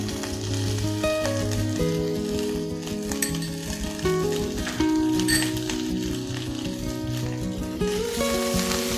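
A quarter kilo of washed, chopped okra fries in two spoons of oil with a loud, continuous sizzle and crackle, stirred now and then, with no talking.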